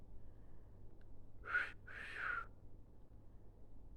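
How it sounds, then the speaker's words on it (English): A pet parrot gives two bright, fairly close whistles in quick succession, the second a little longer and sliding in pitch, against a quiet indoor background. "It's a lovely big whistle."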